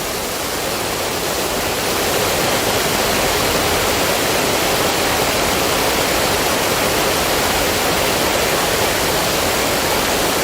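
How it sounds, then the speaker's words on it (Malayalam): A steady, powerful roar of water rushing down from the opened Banasura Sagar Dam into the river below, loud and unbroken throughout, with no voices. "ഇത് ബാണാസുര സാഗർ ഡാം തുറന്നതിന് ശേഷം താഴേക്ക് നദിയിലേക്ക് വെള്ളം ഒഴുകുന്ന ദൃശ്യമാണ്"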